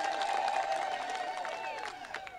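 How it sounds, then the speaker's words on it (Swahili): A crowd claps and cheers for Tanzanian President Dr. Samia Suluhu Hassan at an outdoor gathering. The applause is dense, loud and steady throughout, with a sustained tone riding over it. "Piga makofi kwa Dr. Samia Suluhu Hassan"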